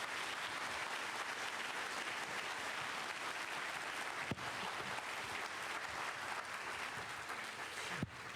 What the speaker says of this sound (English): give these men a round of applause and recognize them for what they've done